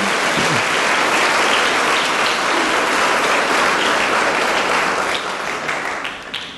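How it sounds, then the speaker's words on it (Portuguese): A church audience gives loud sustained applause, a thick wash of clapping from many people that holds steady and then thins toward the end. "Dê um forte aplauso a Jesus pela sua palavra"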